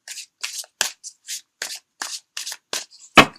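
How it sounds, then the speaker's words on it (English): Tarot cards are shuffled in a rapid series of about ten short, crisp riffles, close and fairly quiet with silent gaps between them, ending in a louder final slap of the deck. "I'm not really a flash shuffler like some readers out there."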